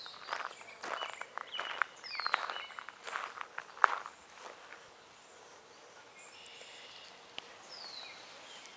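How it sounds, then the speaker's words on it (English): Faint, scattered bird chirps in an open meadow with trees, mixed with crunching footsteps and rustling that fade out partway through. "And if you listen, you hear the birds chirping."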